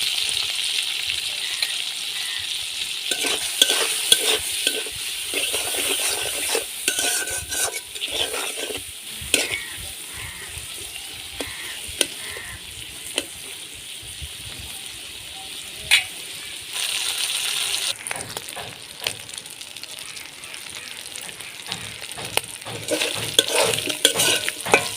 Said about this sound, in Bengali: চিংড়ি মাছ লাল লাল করে ভেজে নিয়েছি